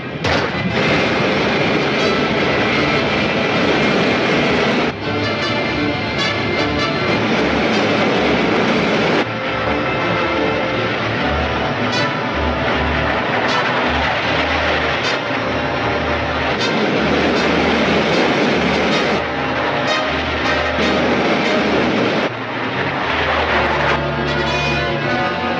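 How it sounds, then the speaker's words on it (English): A rocket ship's main rocket fires with a sustained, loud, roaring blast, broken by several abrupt shifts and bursts, with no voices over it. "Fire main rocket. Main rocket."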